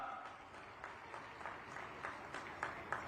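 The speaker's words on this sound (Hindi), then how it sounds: "पूरा 36 बिरादरी जोगी समाज हार्दिक अभिनंदन स्वागत करता है तालियों के साथ।" Crowd clapping to welcome a guest at an outdoor state-level religious festival gathering, a faint, distant, steady patter of applause under hall ambience.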